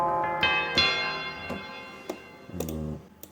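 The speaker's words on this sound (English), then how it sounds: "I got some church bells." Sampled church bells play from music software in a game-music track, several struck tolls ringing close with long, rich overtone decays overlapping one another.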